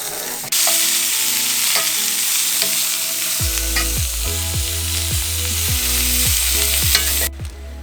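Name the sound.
peppers frying in a pan for fajitas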